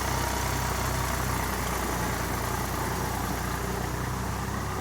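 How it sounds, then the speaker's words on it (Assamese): A tractor engine drones steadily while ploughing a waterlogged rice field, a continuous rumbling hum that holds even and loud throughout, with no talking. "আমাৰ যিখন ট্ৰেক্টৰ আছে ট্ৰেক্টৰখনে হাল বাই আছে"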